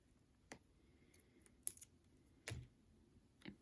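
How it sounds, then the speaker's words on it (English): Scissors trimming out a small flower sticker make a few faint, sharp snips and clicks spaced apart in an otherwise quiet room. "this is connected to this larger flower, but I actually just want this small portion here of this sticker. So I'm going to cut it out."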